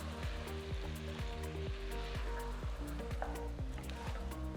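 Mutton pieces, mushy tomatoes and spices stirred together in a hot pan, with a steady sizzle and repeated scraping strokes of the spoon running throughout, close and fairly loud.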